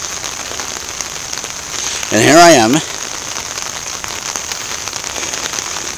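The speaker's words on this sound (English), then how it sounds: "In the rain, today it rained." Rain falls steadily on a November street in New York, a soft continuous patter heard while walking home, with a short spoken phrase rising briefly over it.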